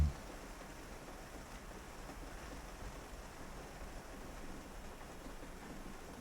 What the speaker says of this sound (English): Looks like it started raining outside.